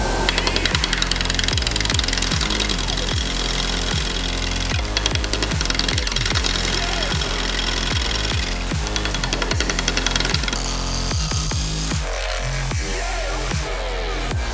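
A wood gouge cuts into a cracked, bug-infested log spinning on a lathe, making loud, relentless rhythmic knocking and chattering like a jackhammer that carries on steadily and very close.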